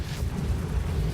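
A rumbling explosion in Baldur's Gate 3, a dense low boom sustained through the moment, loud and close, with no talking over it.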